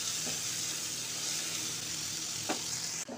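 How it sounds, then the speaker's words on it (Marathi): Finely chopped onions sizzle in a pan over a full flame, a steady broadband frying hiss throughout with a couple of faint utensil scrapes near the end. "कांदा आपल्याला फुल फ्लेमवरती शिजवून घ्यायचा आहे"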